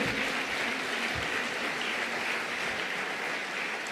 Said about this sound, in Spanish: Aplaudan, es Dilma, es Cristina, es Michelle.